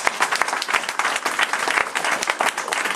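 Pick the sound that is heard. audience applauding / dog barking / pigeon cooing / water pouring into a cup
audience applauding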